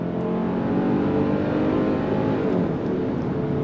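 A 2024 Kia Sportage compact SUV with an 8-speed automatic pulls away under throttle after a U-turn, producing a sustained, even engine and road drone at close range that holds steady throughout, with no voices.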